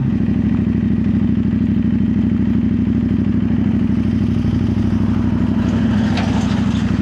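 CFMOTO 800NK motorcycle riding with a steady, loud engine drone throughout, with quick-shifter gear changes that are not clearly marked; no talking.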